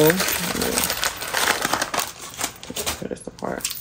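Gift packaging for Saltair Pink Beach body products is cut open and handled, producing loud, close, continuous crinkling and rustling with a voice speaking over it.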